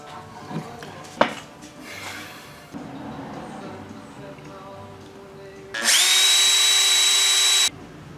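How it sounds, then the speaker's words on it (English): A power drill bores a hole for a pin while a chipmunk lure is being made. It gives a loud, steady, high-pitched whine lasting about two seconds, after earlier clatter and handling sounds. "So now all I gotta do is drill out the hole that the pin is gonna go in."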